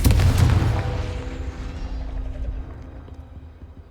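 A Confringo fire spell from the Hogwarts Legacy video game bursts with a loud, booming explosion at the start, then rolls into a decaying rumble and crackle that fades over several seconds.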